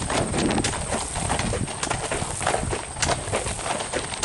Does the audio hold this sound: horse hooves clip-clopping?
yes